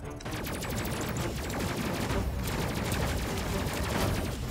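Sustained, dense weapons fire from the space-combat video game Space Crew, a loud continuous barrage of rapid gunshots and blasts that fills the whole stretch without pause.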